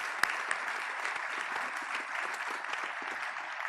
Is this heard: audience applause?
yes